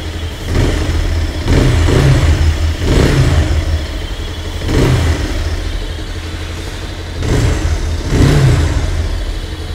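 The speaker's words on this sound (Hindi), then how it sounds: "एग्जॉस्ट नोट सुन लेते हैं" A 2023 Bajaj Pulsar 220F motorcycle's exhaust note, loud and close, idling with a steady rumble between several sharp throttle blips that rise and fall at a regular pace.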